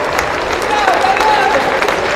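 A basketball crowd gives a standing ovation as the USF Cougars men's team leaves the floor against Huntington: steady, dense applause and cheering that fills the space.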